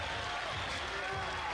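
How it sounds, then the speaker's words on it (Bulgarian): Crowd in the stands at a boxing match in Plovdiv applauding, a steady dense clatter of clapping under a commentator's voice throughout. "Сега чува и подкрепа от трибуните"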